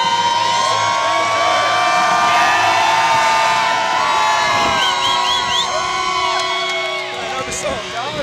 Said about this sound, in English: we had people singing along louder than the playback